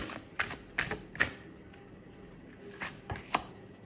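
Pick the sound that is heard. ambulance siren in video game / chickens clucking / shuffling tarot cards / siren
shuffling tarot cards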